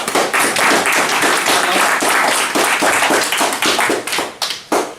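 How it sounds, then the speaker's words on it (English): Audience applause at a healthy-heart nutrition and heart monitor workshop, a dense burst of many hands clapping that holds steady for several seconds and thins toward the end. "Now a big round of applause."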